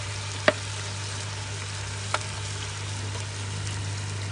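Onion frying with meat in a pot, a soft steady sizzle with two brief clicks of a utensil against the pot, no talking.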